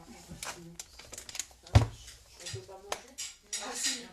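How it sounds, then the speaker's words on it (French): A plate clatters loudly once in the middle of a kitchen scene, a sharp crash of crockery with lighter cutlery and dish clinks around it, while several women chat and laugh over it. "gros bruit d'assiette"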